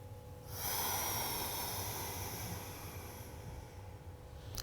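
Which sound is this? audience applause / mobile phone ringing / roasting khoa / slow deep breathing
slow deep breathing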